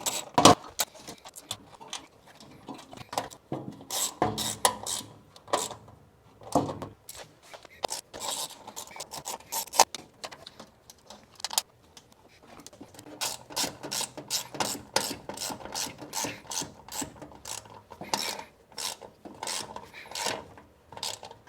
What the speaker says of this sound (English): we're gonna start with this 10mm socket to get the grounds connected